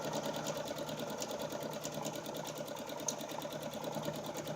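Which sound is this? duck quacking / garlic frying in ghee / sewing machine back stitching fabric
sewing machine back stitching fabric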